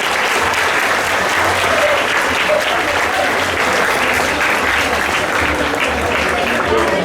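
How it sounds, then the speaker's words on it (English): Children clapping at a school assembly, a steady dense round of applause filling the room for the whole stretch, loud and continuous with a murmur of voices mixed in. "give them a big round of applause"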